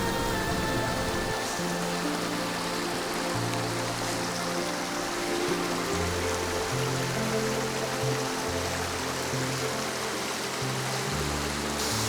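Continuous rushing roar of a gigantic waterfall and flowing stream on a winter mountain hike, steady and loud throughout with no voices.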